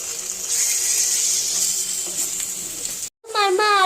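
Green chillies dropped into hot oil for Rayalaseema-style ugg ani, giving a steady close sizzle and crackle, briefly cut off near the end before a voice cuts in over the frying.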